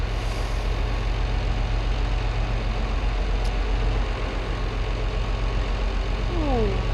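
A tractor engine in Farming Simulator 22 runs at a steady, loud, low drone throughout, with a brief rising whine near the end.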